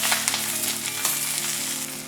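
Drumstick leaves stir-frying in hot coconut oil in a pan, with mustard seeds added just before: a loud, steady, close sizzle with faint scraping from stirring, and no voices.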